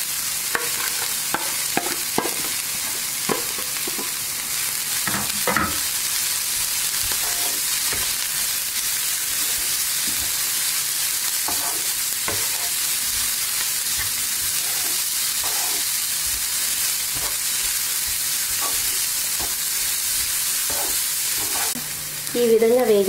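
Grated carrot and mixed vegetables fry in a pan for a mix veg paratha filling, a steady close sizzle and hiss with occasional scrapes and clatters of stirring, and no talk over it.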